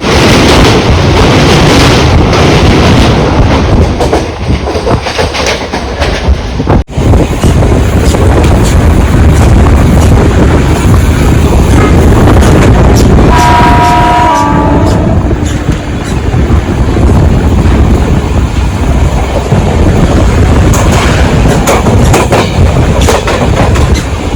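Interior of a MEMU commuter train on the Vasai Road to Diva line, running after departing Kharbao station: a loud, steady rumble with clickety-clack of the wheels over rail joints, brief whistle-like tones partway through, and no voices.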